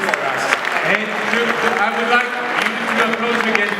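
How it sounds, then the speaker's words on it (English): An audience at a sports awards ceremony applauds a football legend, with a continuous wash of clapping beneath someone speaking over the hall's sound system. "of applause again for a legend, a world legend of football, Elias Figueroa."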